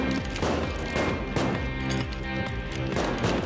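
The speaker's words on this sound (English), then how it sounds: "Someone's shooting, but I can't see it." Rapid gunfire from the video game Payday 2 crackles in dense, continuous bursts with heavy thumps mixed in, loud and sustained throughout.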